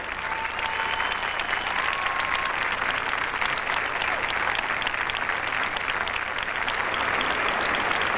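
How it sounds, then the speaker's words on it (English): Sustained applause from a ballroom audience after an Argentine Tango routine at a 1997 championship, a dense, steady wash of clapping throughout with no talk. "another nice round of applause"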